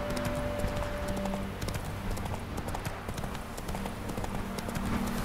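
Horse hooves clip-clop in a steady, even rhythm as a rider gallops along in The Witcher 3, moderately close under a continuous background of game ambience.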